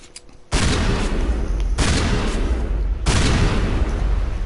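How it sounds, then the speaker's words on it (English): Three loud, heavy shotgun blasts from Mass Effect game combat, each a booming broadband burst with a long decaying tail, spaced about every 1.3 seconds after a brief quiet lead-in. "Let's try a shotgun."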